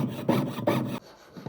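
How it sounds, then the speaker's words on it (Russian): Hand saw cutting along a marked black line in a workpiece for a pendant, producing two rhythmic rasping strokes, then a quieter pause and a faint start of another stroke, close and alone. "Пилим по черной линии."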